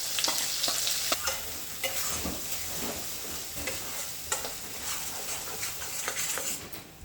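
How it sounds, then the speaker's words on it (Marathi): Spices with turmeric, red chilli, coriander-cumin powder and kitchen king masala sautéing in hot oil for mattar paneer, a dense crackling sizzle with repeated stirring scrapes and clicks, close and continuous. "त्याला असं परतून घ्यायचं तेल सुटेपर्यंत"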